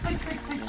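Flowing water rushes loudly and close in a Pyrenees outdoor setting, a brief broad splashing wash with a voice speaking over it.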